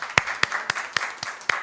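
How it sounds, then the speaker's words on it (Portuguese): Sparse handclaps in a state education committee session: six sharp, evenly spaced claps in a slow rhythm, close and clear, from only a few people, with no talk. "Uma salva de palmas"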